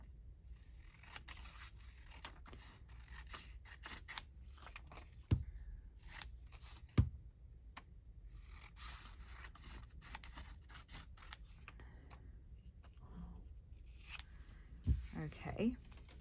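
Scissors snip through paper craft pages for floating pocket cards, a few sharp cuts and scraping rubs scattered through the clip under light background noise.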